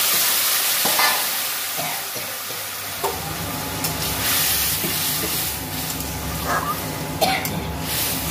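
Okra and potato curry sizzles and fries in a pan with a steady hiss, interrupted by occasional stirring scrapes and clinks close up.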